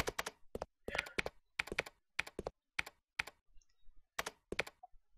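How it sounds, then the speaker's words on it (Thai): Rapid keyboard typing from the video game Resident Evil Code Veronica X: short clusters of crisp key clicks separated by brief pauses, close and fairly loud, with no voices. "มีคนกดคีย์บอร์ด"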